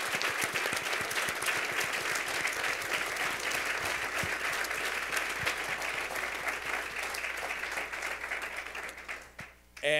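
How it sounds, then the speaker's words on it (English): Sustained audience applause for the panelists at a sports and society panel discussion, a dense, even wash of clapping from a crowd that holds steady for about nine seconds before tapering off near the end. "I want to give a very huge round of applause."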